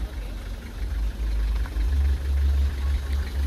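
A truck engine rumbles low and steady as the vehicle creeps forward slowly during alley docking and reverse practice, a constant close drone with slight swells in loudness.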